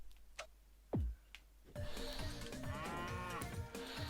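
Cows moo in a video game, a deep drawn-out low call after a few quiet clicks, then overlapping game music and layered tones fill the remaining seconds; no one speaks.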